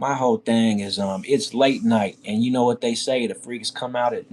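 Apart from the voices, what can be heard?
None of the usual background noises is heard.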